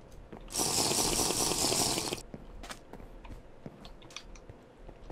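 Water in the Minecraft game world: a loud, steady rushing splash holds for under two seconds, then drops away to quieter scattered clicks and ambient game noise.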